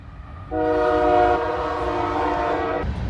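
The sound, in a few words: train passing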